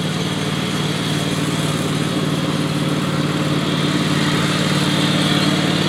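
A lawn mower engine drones loud and close, a continuous buzzing hum that holds steady for nearly six seconds with no talk over it.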